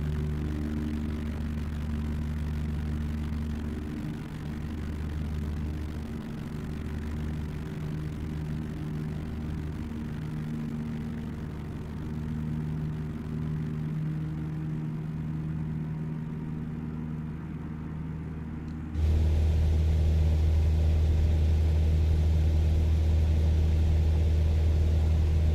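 Cessna small aircraft engine droning steadily at reduced speed, a low uneven hum heard from inside the cabin with no talk, which jumps to a louder, heavier roar near the end.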